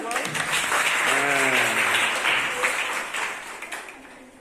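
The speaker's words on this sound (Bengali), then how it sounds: "একটা হাতে তালি দাও সবাই" A burst of group applause, many hands clapping together, with a voice speaking over it as the clapping fades.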